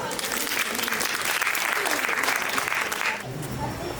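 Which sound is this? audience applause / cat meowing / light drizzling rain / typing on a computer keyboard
audience applause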